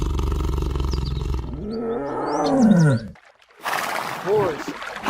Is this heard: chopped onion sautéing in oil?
no